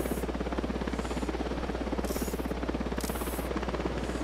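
A helicopter descends in the video game Tom Clancy's Ghost Recon Wildlands, its steady rapid rotor thumping pulsing loudly and evenly throughout with a constant low engine drone.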